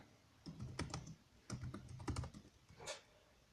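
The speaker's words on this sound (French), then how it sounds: "Donc le clavier est de bonne qualité." Typing on the keyboard of a Dell Inspiron 15 3000 series laptop running Ubuntu, with two close bursts of quick key clicks and a short final tap, no voices.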